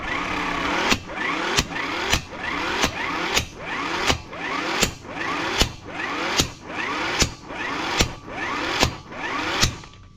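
Electric impact wrench tightening a car wheel lug nut at the roadside: a steady motor whir broken by sharp hammering impacts, about fourteen evenly spaced hits in a regular rhythm.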